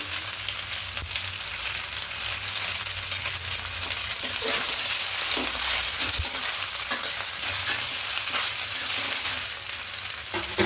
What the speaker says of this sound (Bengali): পাস্তা দিয়ে সবজির সামনে খুব ভালো করে একটু ভেজে নিয়েছি